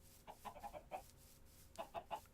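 Chickens in the video game Minecraft cluck in two short bursts of rapid, close, moderately loud clucks separated by a brief pause, with no speech.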